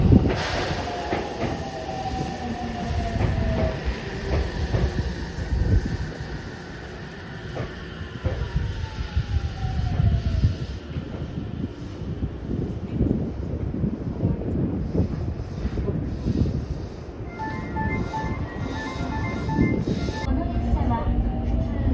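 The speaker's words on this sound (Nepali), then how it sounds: "हामी जाने ट्रेन आयो ल" A passenger train arrives at a station, its rumble steady and close for about twenty seconds, with faint squealing tones near the end and people talking nearby.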